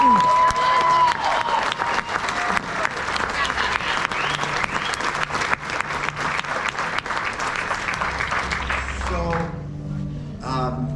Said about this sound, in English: So here, please applaud the Genesee staff.